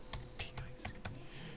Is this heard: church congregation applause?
no